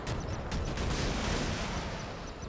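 Rapid, dense volleys of warship weapons fire in the naval combat game Modern Warships, a continuous loud barrage of overlapping blasts with no pauses.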